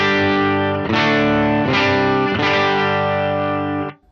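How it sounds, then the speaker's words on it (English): Sustained electric guitar chords played through an Octaver pedal into Universal Audio Ruby and Dream amps in stereo, thick and heavily effected with three restruck swells before fading out. "So this is the Octaver."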